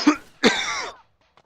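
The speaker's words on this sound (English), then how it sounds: "I'm still coughing" A man coughs twice in quick succession, close and fairly loud, the second cough longer and rougher, followed by quiet.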